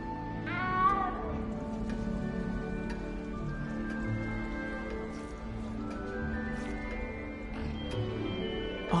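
A cat meows once in Hogwarts Legacy, a short rising cry standing out near the start over a steady bed of soft game music and ambience, with fainter chirps later.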